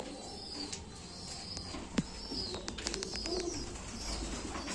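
Pigeons that have come out to drink water coo softly in an open setting, with low murmuring calls and a few sharp clicks and chirps over a steady background hum.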